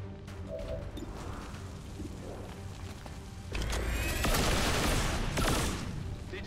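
Gunfire in the video game XCOM 2: a burst of loud, rapid shots and crashing impacts that starts partway through and dominates the second half, after a quieter stretch of game ambience and faint effects.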